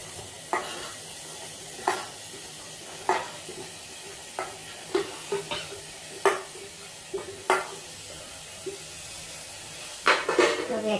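Chopped bottle gourd (lauki) stirred with a spoon in a pan with tomatoes for dal, a series of distinct scraping strokes over a soft background sizzle, fairly close and moderate in level.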